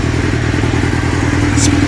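A 1997 Suzuki GSX-R 750 motorcycle with a D&D exhaust idling while warming up on a cold day, a loud, close, steady low burble with rapid pulsing throb and no talk.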